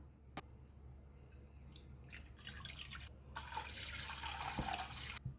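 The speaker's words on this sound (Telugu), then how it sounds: "ఇప్పుడు స్టవ్ వెలిగించుకొని వాటర్ని వేసుకుందాం" Water pouring steadily into a pot on a lit stove, starting with a few drips and building to a continuous splashing stream, close by.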